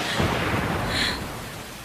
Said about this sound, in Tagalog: Ayaw tumigil ng kidlat.